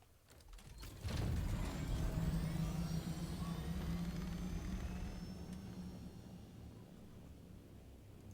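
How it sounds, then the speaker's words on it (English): A Harkonnen-skinned ornithopter in the video game Dune Awakening starts up with a deep, steady mechanical rumble that swells after a second, holds, and slowly fades. "This is the Harkonnen skin on the helicopter"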